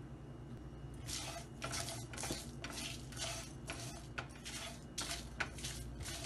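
Cumin and carom seeds dry-roasting in a pan, with a spatula scraping and stirring in repeated bright bursts over a low steady background hum; no voices.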